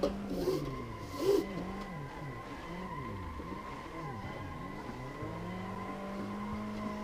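Tires squeal in a long sustained howl as a car jump-drifts in Assetto Corsa at Ebisu Minami, with engine drone running underneath and a couple of louder bursts near the start.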